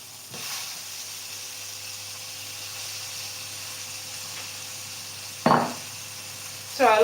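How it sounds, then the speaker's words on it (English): Spiced eggplant frying in a hot pan, a low continuous sizzle in the background with a few sharp louder bursts near the end as pieces hit or shift in the oil; no talk. "you put your already spiced eggplant in it, and then you allow it to cook on both sides."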